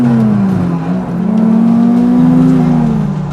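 A 2002 Honda Civic Type R EP3 with a modified exhaust revs close by, its engine note rising and holding with strong induction roar, one sustained surge over a few seconds.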